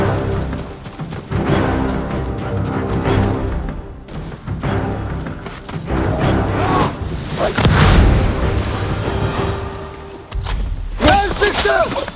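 Hand cannon blasts from enemies in the Ghost of Tsushima video game, several deep booming shots spread irregularly across the stretch, mixed with other loud game effects.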